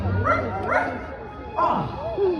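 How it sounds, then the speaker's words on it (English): Zero, the ghost dog of a Disney Halloween fireworks show, yips and barks in a few quick, close, pitch-bending bursts, heard over a theme-park show soundtrack. "Oh, Zero! Here, boy! Zero! Where is that dog"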